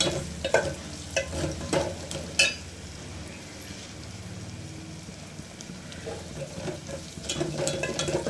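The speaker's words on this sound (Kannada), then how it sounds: "ಸ್ವಲ್ಪ ಫ್ರೈ ಆಗಲಿ." Spices frying in oil in a pan for a quick pepper rasam, a steady close sizzle broken by sharp clinks and scrapes of stirring, busier at the start and end and quieter in the middle, with no talking.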